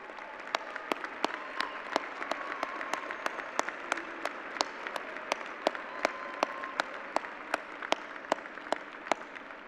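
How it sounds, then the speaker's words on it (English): Round of applause for faculty and staff at the El Dorado High School graduation ceremony, a soft, distant wash of crowd clapping with regular sharp claps punctuating it throughout. "please stand for a round of applause"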